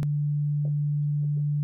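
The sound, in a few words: sine wave oscillator on the Malstrom synthesizer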